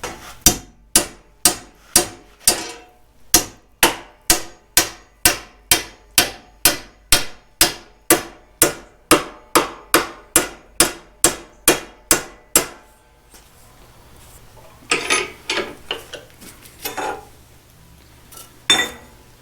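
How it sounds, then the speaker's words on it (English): A hammer taps a piece of metal into a Toyota Tacoma's rear end during solid-axle-swap fabrication. About two dozen sharp, evenly spaced ringing strikes come close and loud, followed by a few scattered, quieter knocks. "I'm going to take a piece of metal, put it in there, and then tap it through as I go."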